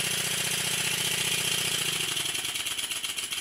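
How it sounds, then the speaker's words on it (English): A Stuart 10V model steam engine running on compressed air after reassembly, giving a loud, fast, steady mechanical chuffing and clatter that carries on throughout, loosening slightly toward the end. "the engine bursts into life"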